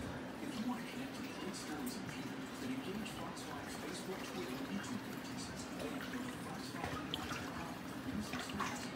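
Water running steadily into a fish tank being refilled after maintenance, a continuous soft splashing and trickling that stays even and fairly quiet throughout with no talk.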